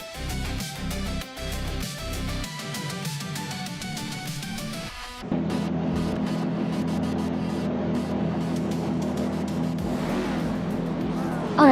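Race cars launching off the line at the Ailes reverse track in a racing video game: idling engines with a musical intro give way to a sustained, loud roar of many engines accelerating together.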